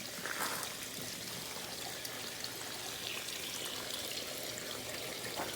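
Gentle water trickles and spills steadily through a hydroponic Kratky growing tray, a soft, continuous close-up flow with no voices.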